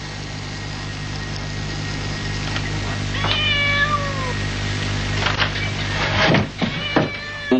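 A cat meows a few times mid-recording with clear, drawn-out cries, then moves about, over a steady low engine-like hum throughout; no one speaks.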